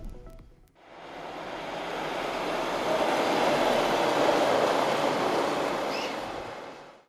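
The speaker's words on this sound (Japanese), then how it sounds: "昼夜問わず多くの列車が走ります。" A train on the Muroran Line in Hokkaido rumbles past on the tracks, swelling into a broad steady roar after a brief quiet moment, then fading slightly.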